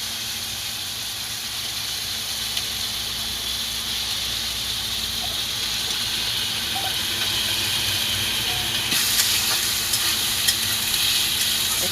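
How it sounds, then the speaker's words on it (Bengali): Potatoes frying in a pan with ground onion paste, a steady close sizzling hiss running throughout, growing slightly brighter near the end with faint stirring clicks. "তারপর দিলাম আলুগুলো, কারণ সাথে সাথে আলুগুলো ভাজা হয়ে যাবে।"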